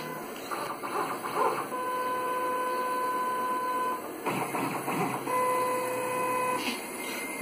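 A LinuxCNC machine's axes moving during auto homing, steady whining stepper-motor tones that hold, pause briefly, then resume, over a constant electronic hum.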